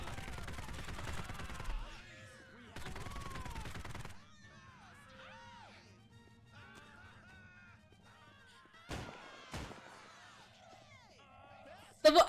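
Gunfire in the Postal Redux video game: two dense bursts of rapid shots early on, later isolated sharp cracks, with quieter background sounds in between and brief voices.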